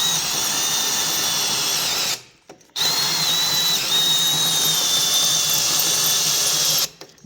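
A cordless drill runs in long, steady high-pitched whirs while drilling during custom motorcycle building, cutting out abruptly twice as the battery fails, with a brief sputter between runs and no talking.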